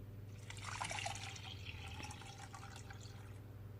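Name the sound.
water poured into a pan of lentils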